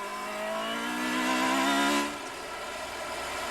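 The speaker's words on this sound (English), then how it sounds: "Here's the onboard from Patrick Freisacker's machine as he pulls the Red Bull car in." Onboard engine sound from a Red Bull Formula 3000 race car pulling into the pits during a 2002 race in Germany: a loud, steady high-pitched engine whine that swells briefly, then drops lower as the car slows.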